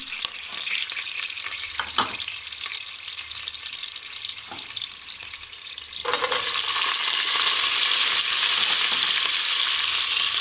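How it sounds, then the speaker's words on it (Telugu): Onions sizzling in hot oil in a pan for tomato rice, a steady close frying crackle with a couple of soft utensil knocks, then the sizzle suddenly grows louder and brighter for the rest, no speech. "ఆనియన్స్ వేసుకుంటాము."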